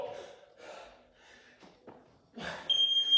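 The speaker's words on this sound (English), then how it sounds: "When it beeps, I want one more." A workout interval timer sounds a sharp, steady electronic beep near the end, briefly after voices and movement noise during a live circuit training session.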